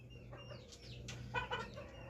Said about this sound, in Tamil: எப்படி இருக்கு எங்களுடைய பண்ணை கோழிகள்?